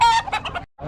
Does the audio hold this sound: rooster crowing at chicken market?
yes